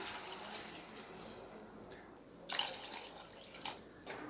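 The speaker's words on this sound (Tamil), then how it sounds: "இப்போது நம்ம குழம்புக்கு தேவையான அளவு தண்ணி ஊற்றிக்கலாம்." Water is poured into a pan of vegetable curry kulambu, giving soft, faint splashing and trickling in a couple of brief bursts against a quiet kitchen background.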